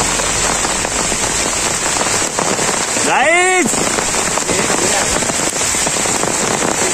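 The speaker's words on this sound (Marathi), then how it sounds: "काय ते बघा, किती पाऊस आहे," Heavy rain pours down steadily near the reception area of a water park, a dense hiss that stays close and constant, with a brief voice calling out partway through.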